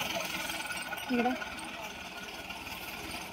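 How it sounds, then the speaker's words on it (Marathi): A tractor engine runs steadily nearby while compacting silage spread over a plastic sheet on a farm, its rumble continuing under a man's speech. "ट्रॅक्टरने चोपला वे"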